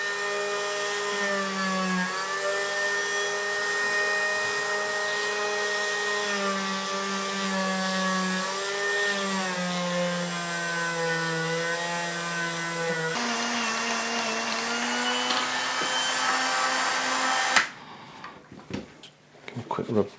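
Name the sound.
power tool buffing the frets of a Fender Jazz Bass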